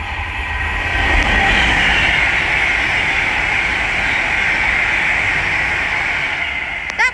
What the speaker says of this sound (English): down in the distance is the Avanti West Coast service from London Euston to Glasgow Central, about to pass by